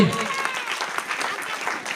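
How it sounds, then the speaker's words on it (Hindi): A church congregation claps loudly together at a pastor's call, a dense wash of many hands at steady volume, with a voice briefly audible at the start. "अरे भाई जोर से ताली बजाएंगे।"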